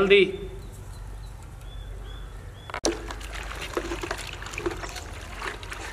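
Water is poured into a cooking pot holding mutton and half a kilo of tomatoes, a soft trickling splash with one sharp knock partway through.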